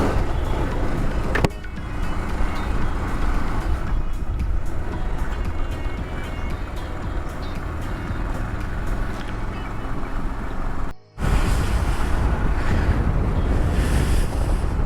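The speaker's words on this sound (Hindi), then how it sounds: "तो चलते हैं हम अपनी बाइक पे एक छोटे से स्पिन पे" Riding a motorcycle on a road, captured with a GoPro 8 and external mic, gives a loud, steady roar of wind buffeting and engine rumble, broken by one brief dropout near the end, with no talk.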